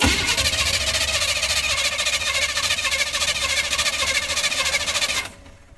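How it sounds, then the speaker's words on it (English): A 1985 Chevy C-20 square-body pickup engine, fitted with a new fuel pump, cranking over loudly and steadily for about five seconds before cutting off abruptly, leaving a quiet tail. "we're gonna turn the engine over now and see if the new fuel pump is pumping gas into that bottle"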